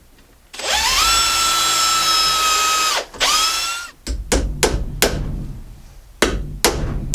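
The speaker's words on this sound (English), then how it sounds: "Even the nails I pre-drill, because they're a big thick nail." A power drill pre-drills nail holes in deck timber with a loud, close whine lasting about two and a half seconds, a short second burst follows, then a run of sharp hammer blows drives big thick nails.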